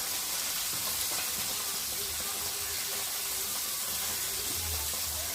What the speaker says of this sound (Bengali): বড় বড় মাছ তো তাহলে 2-3 করে ভাজি